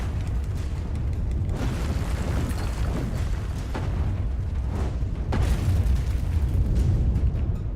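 A wall blows apart in the Alice Madness Returns video game, a dense continuous rumble of explosive booms and crashing debris with repeated bursts, loud throughout and swelling toward the end.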